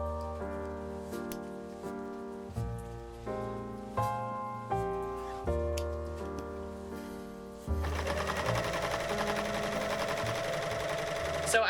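A sewing machine zigzag-stitches over cotton cording in bursts of rapid mechanical chatter, pausing briefly between short runs, then runs steadily at a faster, fuller pace toward the end, close and clear with no talking.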